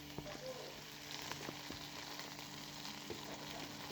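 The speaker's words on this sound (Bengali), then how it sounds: "লবণ দিয়ে দিলাম। এগুলো একটু কষিয়ে নেব।" Vegetables sizzle softly as they sauté in a pan with salt, a steady faint frying hiss with a few small clicks from stirring.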